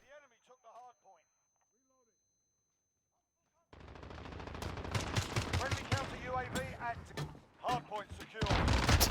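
The Finn machine gun in Call of Duty: Modern Warfare fires in rapid, loud sustained bursts after a short quiet stretch with faint game voices, with brief gaps between strings of shots.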